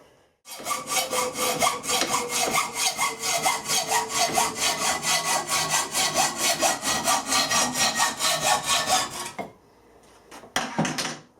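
A hand saw cuts through the sprue of an aluminium casting made from scrap BMW suspension arms, with steady, rapid, rasping strokes up close for about nine seconds before stopping, followed by a few light knocks.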